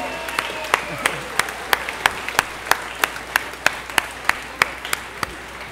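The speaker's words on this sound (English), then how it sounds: "Give him a round of applause." Audience applause for a soloist at a school Christmas concert, a steady wash of clapping with a few loud, evenly spaced claps from someone nearby cutting through at a regular beat.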